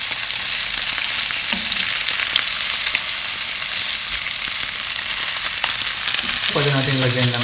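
A burger patty fries in a hot pan with a constant loud sizzle and crackle, joined near the end by a brief ringing clink of a utensil against the pan.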